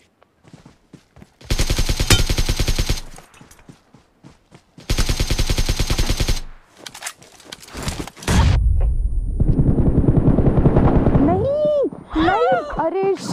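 Automatic weapon fire from the PUBG Mobile battle royale game rattles out in long, loud bursts separated by short pauses, followed by heavier blasts and ricocheting impacts, with a player's voice talking in between.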